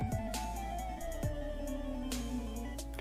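Battle intro sound effect from a GameMaker Studio game: a short synthesized musical flourish with bright tonal layers and sharp hits, sustained and fairly loud for about three seconds with no talk.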